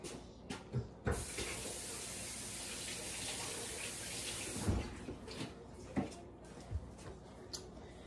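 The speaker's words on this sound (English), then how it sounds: "now, let me wash my hands off" A kitchen tap runs while hands are washed during Swiss steak preparation. A steady, close water rush lasts a few seconds, framed by soft thumps and knocks.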